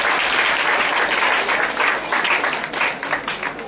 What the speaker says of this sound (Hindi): यस, इनके लिए तालियां बजाएं